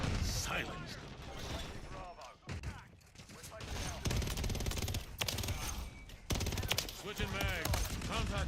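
Rapid automatic gunfire in Modern Warfare III multiplayer on the Shipment map, with dense bursts of loud shots and reload clatter, a brief lull in the middle, and a player's voice talking over the action.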